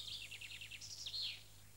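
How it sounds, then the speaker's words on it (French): An animated cartoon bird sings a quick series of high, bright chirping notes in a rapid rhythmic trill, clear and alone over a quiet background hum. "Oh, mon oiseau préféré, il est en train de chanter."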